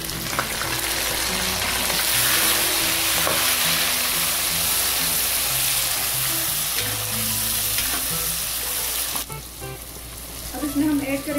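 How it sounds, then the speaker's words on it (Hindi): Mutton sizzles and fries in a pot with chopped tomatoes for biryani, a loud, steady crackle that runs close throughout. Stirring noises mix in, and a utensil clinks near the end. "गोश्त को हमने अच्छी तरह से भून लिया है"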